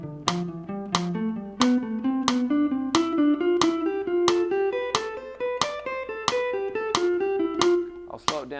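Guitar runs up a scale in thirds with a triplet grouping: a steady stream of clean plucked notes, about three per second, climbing gradually in pitch. The playing is close and even, with no talking over it.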